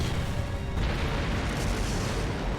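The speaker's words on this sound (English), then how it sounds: "It's stock explosion noises." A continuous low, rumbling blast from an enemy attack in the video game The Legend of Heroes: Trails of Cold Steel, steady and loud across the whole stretch with a slight surge partway through and no voices over it.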